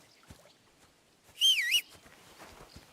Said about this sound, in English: What are you whistling for?